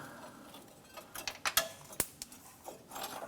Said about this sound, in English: Go ahead and spin out that bolt the rest of the way